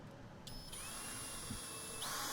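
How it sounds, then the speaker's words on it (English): A power drill fitted with a combination drill and countersink bit bores into construction lumber for a bookshelf, a faint high motor whine that rises and shifts pitch as the bit bites, with a brief soft knock partway through. "I'm using this combination drill and countersink bit just to make things easier"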